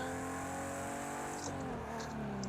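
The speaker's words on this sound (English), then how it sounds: "But listen to the engine noise." An Italian car's engine in the Project Cars 2 racing game holds a steady, loud drone with a slight shift in pitch partway through, heard alone without talk.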